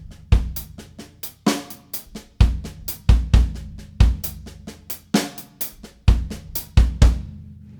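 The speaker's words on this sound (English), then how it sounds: "This just creates different textures from the hi-hat." Hi-hat played in a steady groove with varied hand positions, crisp metallic chicks and washy splashes alternating with varied attack, close and fairly loud, no voices.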